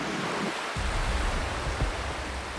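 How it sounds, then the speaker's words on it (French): Big ocean waves crash against a rocky jetty in rising wind, a continuous loud roar of surf with heavier thumps of breaking water and no voices. "Le vent se lève, et ça rend les vagues encore plus violentes."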